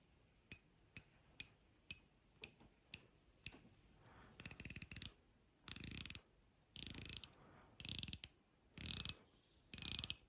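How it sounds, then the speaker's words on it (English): Ratcheting clicks from the ceramic bezel insert of a Pagani Design watch being turned: about seven crisp single clicks in a steady rhythm, then bursts of rapid clicking as the bezel spins faster, close and clear with no talk. "We have a ceramic bezel insert. Let's hear the clicks."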